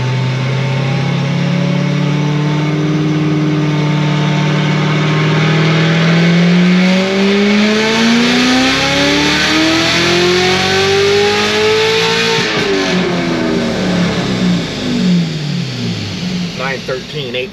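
A supercharged C7 Corvette Z06 with a stock blower, running E40 fuel at RPM Stage 4 tune, roars loudly on a dyno, its pitch climbing steadily through a long wide-open pull before falling off as it lets up.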